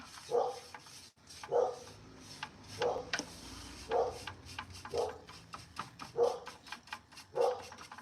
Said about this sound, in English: there goes my dog acting up